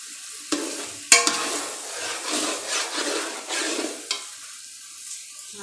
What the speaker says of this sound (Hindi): अब ये पानी हम उन चावलों में ऐड करेंगे